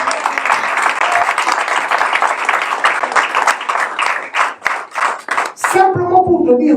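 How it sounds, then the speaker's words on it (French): Church congregation applauding during a Sunday worship service, a dense, loud wash of clapping that thins into scattered claps before other sounds take over near the end. "Est-ce qu'on va acclamer pour eux?"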